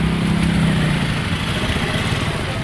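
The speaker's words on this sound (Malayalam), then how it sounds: "ആ ഇപ്പോൾ ബൈക്കിനെ വിടുന്നുണ്ട്" A motorcycle crosses Chatham Bridge in the Andaman Islands, a bridge with cracks where bikes are only sometimes let through; its engine drones steadily and close, with no gaps or talk.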